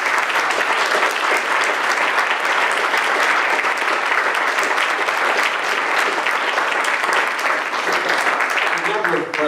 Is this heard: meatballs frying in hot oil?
no